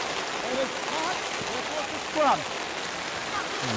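Steady rain falls over an outdoor rugby match, a continuous wash of drops that runs through the whole stretch, with a commentator's voice and the faint calls of players and spectators carrying over it.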